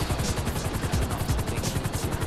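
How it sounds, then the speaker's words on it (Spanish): A helicopter in a multiplayer video game hovers low overhead, its rotor blades thumping in a fast, steady rhythmic chop with a loud whooshing wash of air, close and dominant, with no talking. "Te estás cargando todo el mundo con el helicóptero"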